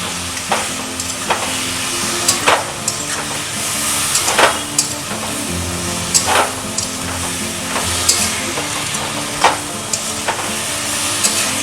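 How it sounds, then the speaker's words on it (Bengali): Mustard stems and mixed vegetables sautéing in a pan for a Bengali chochchori, a loud steady sizzle with repeated scrapes of a spatula stirring through the pan, no voices. "এটা একটু কষানো হোক, কষানো হচ্ছে।"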